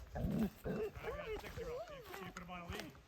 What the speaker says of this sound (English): I have a doggy with me